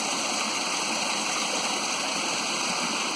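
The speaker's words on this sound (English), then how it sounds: "The water is flowing out of the lock there." Water pours steadily out of a canal lock, a dense continuous rushing and gurgling like a small weir, close and unbroken with no voices.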